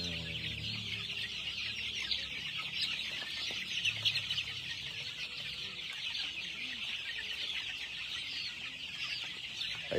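Chickens cluck and chatter continuously on a farm, a steady chorus of overlapping calls with scattered louder clucks, some birds close and others farther off.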